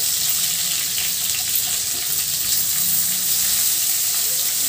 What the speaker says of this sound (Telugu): బ్రౌన్ కలర్ వచ్చే వరకు ఫ్రై చేసుకున్నాం మనం ఆనియన్స్ ఇవి